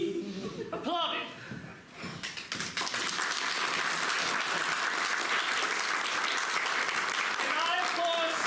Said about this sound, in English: The people attending the feast applauded.